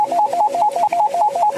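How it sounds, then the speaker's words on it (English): A video game telephone rings in a repeating electronic warble, a rapid alternating two-tone pattern in steady bursts, close and loud, with no talk. "Let's pick up the phone."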